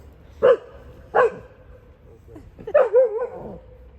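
Dogs give a few short yips and barks close by, three separate bursts with quiet between them, sounding playful rather than aggressive.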